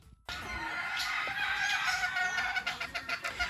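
Fighting roosters crowing and clucking at Ney Rodríguez's farm in Loma de Cabrera, several birds overlapping in a steady, fairly near din that starts abruptly and carries on without talk.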